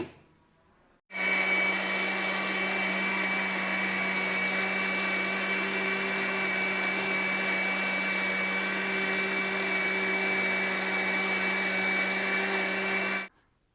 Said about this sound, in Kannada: ಇದನ್ನು ನುಣ್ಣಗೆ ರುಬ್ಕೊಂಡು ಬರೋಣ